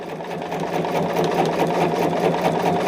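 Sewing machine stitching a quilt block runs in a fast, steady needle rhythm, close and continuous throughout, with no talk.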